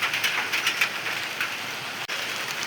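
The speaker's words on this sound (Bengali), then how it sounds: "বৃষ্টি শুরু হয়ে গিয়েছে" Rain falls steadily on a jute field outdoors, a close, even hiss of drops with faint patters throughout.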